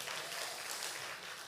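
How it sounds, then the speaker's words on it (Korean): A church congregation at a Sunday worship service gives a short, steady burst of applause, heard faintly and a little distant. "하나님께 감사하며 영광의 박수 하시겠습니다."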